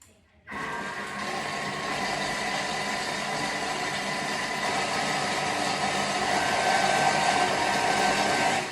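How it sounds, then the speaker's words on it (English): A Thermomix blends sweet potato, apple and yogurt baby food, starting suddenly after a quiet moment and running as a loud, steady high-speed whir that holds to the end. "I'm going to give it just another quick blend"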